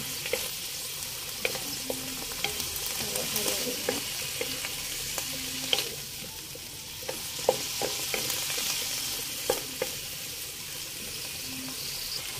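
Dinengdeng vegetable soup with moringa pods and lima beans stirred in a pot, a continuous bubbling simmer with occasional soft scrapes and clinks of the spoon against the pot, up close.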